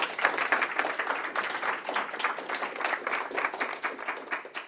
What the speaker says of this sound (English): let's give Matt another round of applause